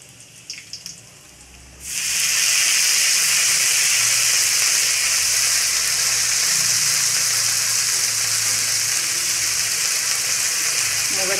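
Dill greens dropped into hot oil with fried chili and garlic for a dry moong dal dish, bursting into a loud, steady hiss that holds without pause after a brief quiet clatter of the pan.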